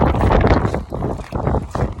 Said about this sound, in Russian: в Норильске тоже такой ветер, довольно-таки сильный, порывистый